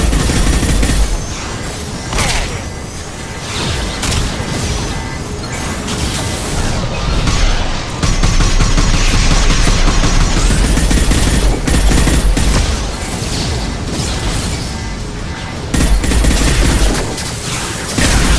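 Continuous heavy weapon fire and explosions in the video game Mass Effect 2, a dense, loud barrage of rapid shots and blasts with low rumbling thuds throughout.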